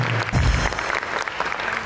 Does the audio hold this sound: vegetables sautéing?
no